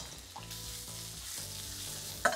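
Onions sizzle and fry steadily in olive oil in a pan, a continuous crackling hiss throughout with a brief louder stir or clatter near the end.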